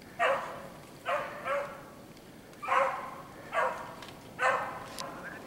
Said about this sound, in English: Here I got the dogs coming right at me.